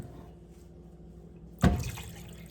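Water is poured from a large cup into a pot for beef stew: one short splashy pour after a quiet stretch, trailing off at the end.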